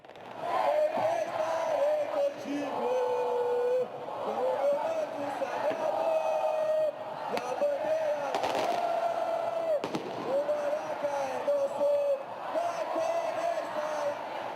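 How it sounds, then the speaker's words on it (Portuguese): Flamengo fans chanting at the title parade, a loud sustained crowd chant with a sung melodic line, bursts of fireworks or firecrackers popping through it, and voices blending in the roar. "Gabigol comandou o canto da torcida"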